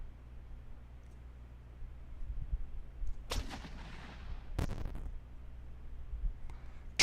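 Tank gun in Armoured Commander II fires canister shot at a 37LL gun: two sharp, loud broadband blasts about a second apart, each with a short rumbling tail over a low steady game hum.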